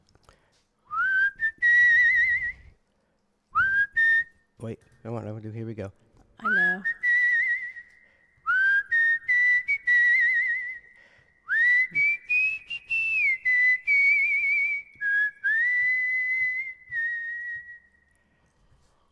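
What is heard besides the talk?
person whistling a tune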